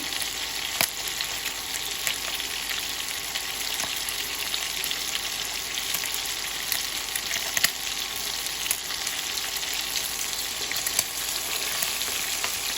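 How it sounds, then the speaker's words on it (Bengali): Bata fish with roe in its belly fries in oil with a constant, bright, close sizzle dotted with small sharp pops and spatters at irregular intervals. "যেহেতু পেটে ডিম আছে মাছটা, আমাকে একটু ভাজতে একটু সময় দিতে হবে"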